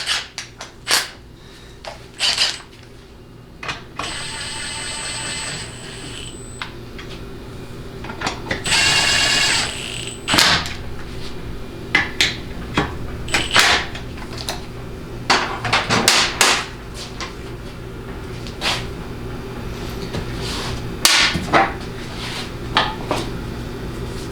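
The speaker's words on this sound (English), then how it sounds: "I'm going to zip these 2 bolts all the way down" Two bolts are run down on a Ford C6 transmission fixed yoke assembly with a powered ratchet. It whirs in brief spurts amid clanking metal tool and part noises close by.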